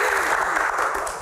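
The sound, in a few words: applause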